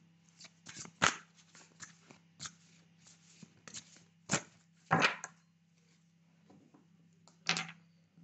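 Tarot cards shuffled and handled close by, a series of soft papery slaps and riffles at irregular intervals over a faint steady hum, quiet overall.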